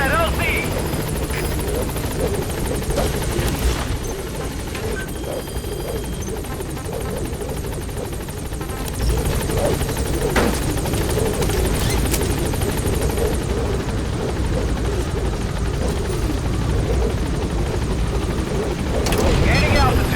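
A B-Quad support helicopter in Metal Gear Solid V: The Phantom Pain arrives at a landing zone, its loud steady rotor drone filling the scene over game music, with occasional voices.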